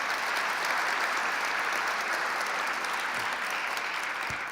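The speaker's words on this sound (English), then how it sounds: "Let's give the Long Island members a round of applause." A crowd of audience members at a New York civic business gathering applauds a group of Long Island legislators, a dense, steady roar of clapping that stays even and full throughout with no voices over it.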